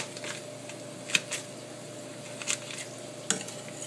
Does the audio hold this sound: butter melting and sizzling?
yes